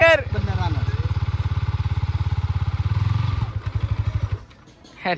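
A motorcycle engine idles with a rapid, steady putter, close and loud, then sputters unevenly and stalls, with a short voice at the start.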